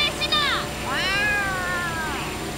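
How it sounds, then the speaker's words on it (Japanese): A cat meows in a long, rising and falling cry in the Yakuza: Like A Dragon video game, with a short chirp before it, close and clear over a low background hum, and voices talk in the scene. "この泥棒猫、その魚返しな。"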